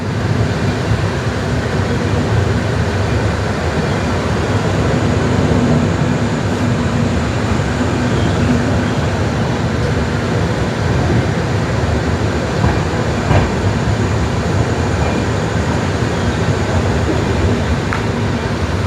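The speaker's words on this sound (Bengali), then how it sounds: "তিনটে 15 বাজে ট্রেন ঢুকছে আজিমগঞ্জ জাংশন" A train rolls into Azimganj Junction station at night with a steady, broad rumble and rattle of wagons that continues evenly throughout, with no voices.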